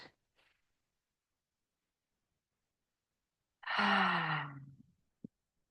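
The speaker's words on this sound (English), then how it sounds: "take some long, slow, deep breaths in and out" A single long, slow exhale during a morning meditation, breathy and close, drawn out for about a second with a soft sighing tone, preceded and followed by near silence.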